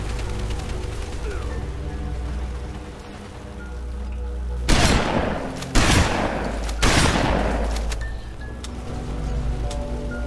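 Gunfire in a firefight: three loud, broadband shots or bursts close together in the middle, over a steady background rumble with some faint voices.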